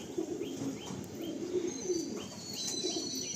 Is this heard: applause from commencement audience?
no